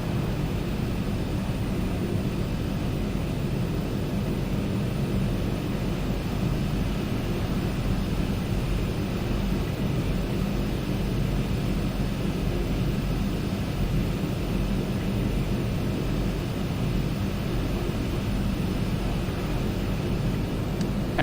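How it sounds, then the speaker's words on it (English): Aerosoft Twin Otter in the MSFS 2020 flight simulator taxiing after landing with reverse thrust and braking: a steady, loud turboprop drone and propeller roar, unbroken throughout with no talk. "A bit of reverse thrust, a bit of braking, and we should make the taxiway to our left."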